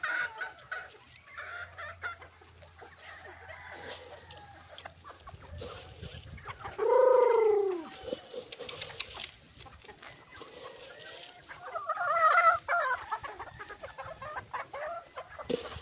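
At a gamefarm, a rooster crows once loudly and close amid scattered clucking of chickens, with another short crow later and soft background farm noise, all without talking.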